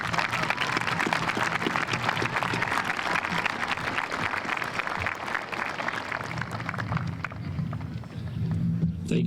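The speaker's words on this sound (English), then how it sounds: "Please join me in applauding the whole staff of Coldwater High School." Audience at a Coldwater High School graduation ceremony applauding the school staff, dense sustained clapping from a large crowd that thins out near the end.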